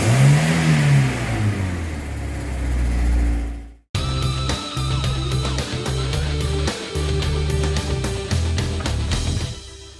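A BMW E30's engine, in a car whose tachometer has stopped working, revs up in a rising whine, then cuts off abruptly before a choppy run of repeated blips and rough engine pulses close by.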